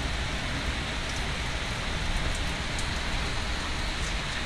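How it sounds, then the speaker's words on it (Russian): Steady rain falls in a Moscow park at VDNKh on a summer day, a dense, even hiss of drops that stays constant throughout, with no voices. "Ничего, дождь когда-нибудь закончится."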